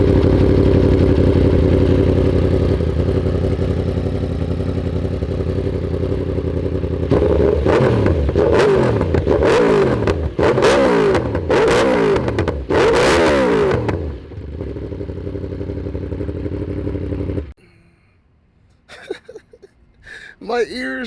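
Yamaha R1M sport bike with an Austin Racing titanium straight-pipe exhaust, no baffles, idling hard then revving in a series of sharp, very loud blips that drop back, with a brief quiet and a voice speaking at the end.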